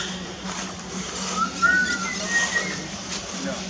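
Someone whistles outdoors at Feldman Park zoo park in Kharkiv, near ostriches and flamingos, a thin sustained tone rising in two short phrases, moderately loud over background noise.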